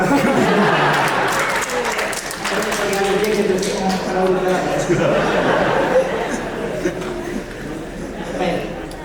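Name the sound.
audience applause during political speech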